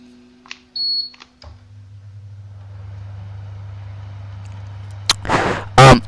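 A Webbler double-decker washing machine runs with an odd sound: a few beeps and clicks, then a steady low motor hum that builds, broken near the end by short bursts of noisy clatter.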